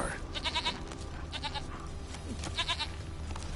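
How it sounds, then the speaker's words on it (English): Bleats from a goat in a farm setting, in short repeated bursts of three or four calls, fairly close and clear over a low background rumble. "Here, goat."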